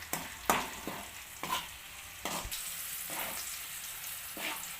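Tempering ingredients deep-fry in hot oil in a pan, a close, crackling sizzle broken by repeated stirring scrapes at an uneven pace.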